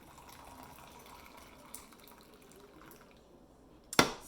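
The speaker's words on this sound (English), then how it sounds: "Let's add our hot water." Hot water is poured into a pot of black tea, a faint, steady trickle and fill that ends in a brief louder splash or clink near the close.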